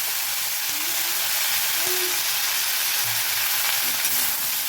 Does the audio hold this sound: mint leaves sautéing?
yes